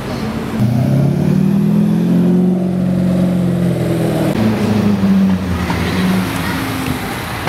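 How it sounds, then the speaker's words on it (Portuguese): A Corvette C6 sports car rolls up through Praça Espanha in Curitiba, its engine a loud, close, steady droning rumble that swells and holds for several seconds before easing slightly, with no one talking. "Chegando ali o Corvette C6."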